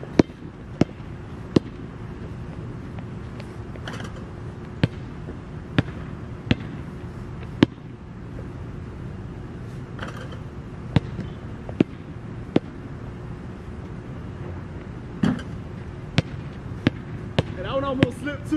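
A basketball bounces and hits during a quick set of five shots, sharp impacts landing at irregular intervals over a steady low room rumble, with no talking.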